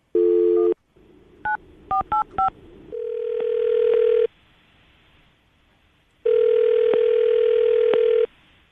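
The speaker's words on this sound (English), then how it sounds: "I'm going to call her right now, see if we can get her on the phone." A phone line hums with a dial tone, then a quick series of keypad beeps, followed by two long ringback tones with silence between.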